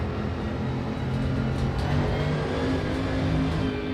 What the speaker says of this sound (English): I'm pretty sure this has a V8 engine.